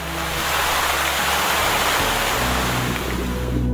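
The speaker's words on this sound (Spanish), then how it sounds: "Así se escucha el agua cuando corre." Broadband rushing of free-flowing water, a steady loud wash with a deep low rumble underneath, continuous throughout with no voices.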